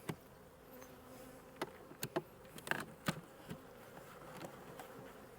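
Honeybees buzz quietly inside an open beehive, a faint steady hum broken by frequent sharp clicks and knocks from handling the frames, with a few individual bees droning past up close.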